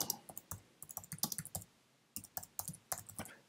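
Keystrokes on a computer keyboard while writing a comment in Java code, a quick irregular run of close, crisp clicks in two bursts separated by a short pause, with no talking.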